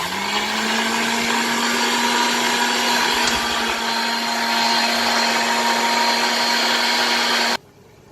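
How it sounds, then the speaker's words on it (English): An electric blender whirring steadily as it purées garlic, ginger and spring onion with a little liquid into a paste, a loud continuous motor whine that cuts off abruptly near the end. "add a little liquid, and then blend to paste because of the garlic and the ginger. So I'll blend this."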